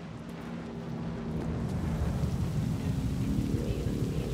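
Rain pours with rumbling thunder in the video game Cyberpunk 2077, a steady wash of rainfall under a low roll of thunder that swells and grows louder toward the end.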